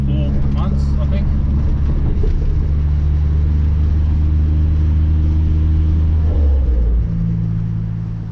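A Nissan Navara pickup with a freshly fitted VG30 engine drives along, its steady low engine drone and road rumble filling the cab, easing off near the end; a voice speaks briefly over it.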